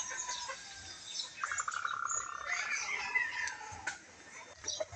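A hen about to lay an egg clucks and cackles in soft, repeated calls at a middle distance, with chirping birds and faint background noise around it.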